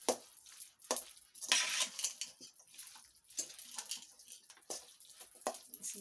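Melted butter being mixed into chicken in a dish: soft, irregular wet scraping and clinks of a utensil against the dish, fairly quiet, with no talk.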